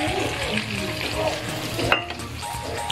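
Pork belly paksiw with vinegar and oyster sauce sizzles in a pan while being stirred, a continuous close frying hiss with scraping utensil strokes and a sharper clink near the middle.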